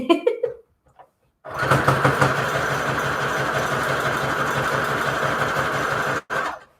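A sewing machine runs a long, steady zigzag stitch across a patchwork junk journal cover. The loud, even mechanical whir carries on for several seconds after a few quiet moments and stops abruptly near the end.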